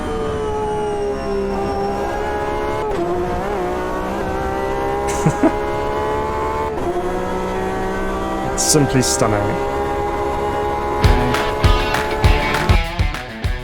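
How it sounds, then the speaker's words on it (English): A Porsche RSR race car engine in the racing game Automobilista 2 roars continuously, rising and falling through gear shifts and throttle lifts, with a commentator's voice briefly heard over it. "let's listen again for the beautiful sounds of the RSR"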